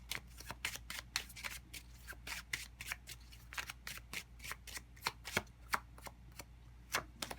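Tarot cards are shuffled by hand in a quick series of crisp, papery flicks and slaps with an uneven rhythm. The sound is close but fairly faint over a low background hum.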